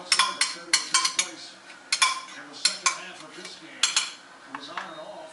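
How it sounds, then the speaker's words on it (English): Enchilada sauce spooned into the bottom of a baking dish, a series of sharp metallic clinks and scrapes of a spoon against the dish in an irregular rhythm, close and moderately quiet. "We'll put it down on the bottom of our baking dish so that we don't have our tortilla wrap sticking to the bottom."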